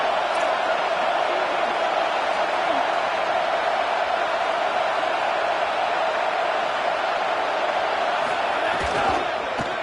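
A football stadium crowd roars steadily behind the defense on a big third down, a dense continuous wall of cheering that holds level for the whole stretch without breaks.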